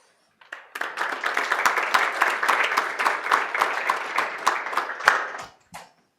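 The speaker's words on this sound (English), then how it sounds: "Let's give another round of applause for our speakers during this session" The audience at a Cape Town mRNA programme conference session applauds its speakers. Close, lively clapping starts suddenly, holds strong for about five seconds, then tapers off quickly.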